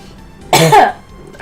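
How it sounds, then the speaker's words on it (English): A single short, loud cough bursting out of quiet room tone, a rough throaty burst lasting about half a second before fading. "I coughed a little bit"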